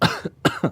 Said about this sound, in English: My God, I keep coughing.